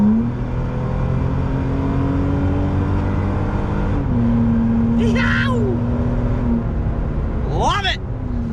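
A third-generation Toyota Tacoma truck with an aftermarket exhaust pulls hard in second gear from around 50 mph, a steady droning engine tone rising over several seconds under a person talking.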